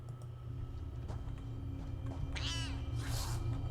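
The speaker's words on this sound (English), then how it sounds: "Meow. Oh, got a Siamese one here." A Siamese cat in the video game Elder Scrolls Online lets out a couple of short meows over a low, steady game soundtrack hum.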